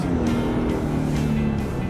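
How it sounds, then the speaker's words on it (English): The engine of a 2010 Infiniti G37X AWD hums steadily and loudly from inside the car as it accelerates briskly. Road noise comes through, and there is no talking. "I'm going to accelerate kind of briskly, so you can feel the horsepower of the engine and the transmission shift."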